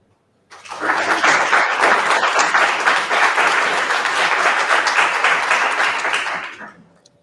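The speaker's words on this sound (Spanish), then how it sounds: "recibimos ya con un cariñoso aplauso a la señora Alegría" Warm audience applause welcomes the speaker at an art and design conference, bursting in abruptly, holding loud and dense for several seconds, then tapering off at the end.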